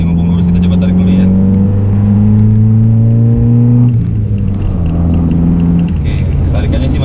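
A 1991 Honda Accord Maestro with a 2000 cc engine accelerates hard on a straight road, its engine droning with a steadily rising pitch, then dropping as it shifts gear, loud and close inside the cabin.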